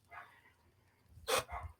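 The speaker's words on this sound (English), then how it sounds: "I hope you guys don't hear the dog barking in the background" A dog barks in the background at dinner time, one bark near the start and a louder double bark toward the end, the other moments nearly silent.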